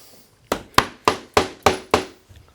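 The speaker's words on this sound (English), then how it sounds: "large dead blow hammer, trying to be nice and light. Tap this down on our board" A large dead blow hammer gives six light, evenly spaced taps on a wooden board on a steam-bending woodworking bench. Each tap is close and crisp with a short decay, and no voices are heard.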